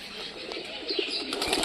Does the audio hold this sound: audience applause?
no